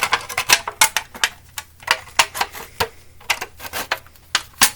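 Rapid, uneven snipping and crunching of scissors cutting through thin aluminum cans, sharp clicks in quick irregular bursts, close up with no talking.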